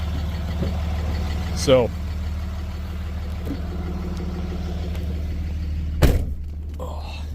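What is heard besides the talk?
Dodge Ram Cummins 5.9 diesel truck driving, BorgWarner turbo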